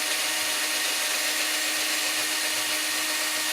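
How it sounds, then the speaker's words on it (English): A drill steadily boring out a broken bolt on a turbo, a continuous close grinding whir with no pauses. "What I'm going to try to do is carefully keep drilling till we're all the way through."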